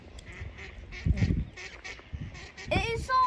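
Several baby ducks on a hill give faint peeping and honking calls in an outdoor park setting, with people talking nearby and a louder call near the end.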